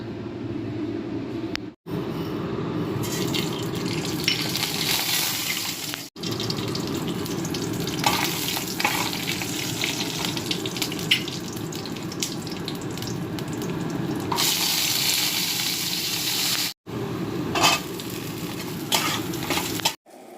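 Shukto, a Bengali vegetable stew, sizzles steadily in a pan while being stirred, with scraping and bubbling sounds that continue for the whole stretch, broken only by a few very short silent gaps.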